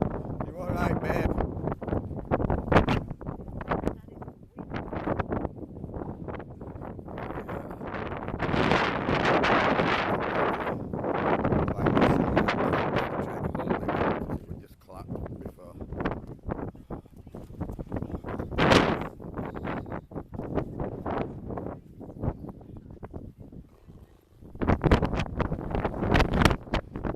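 Strong gusty wind buffets the microphone at a seaside campsite near Scarborough and Filey on a stormy morning, surging and easing in loud rushes throughout.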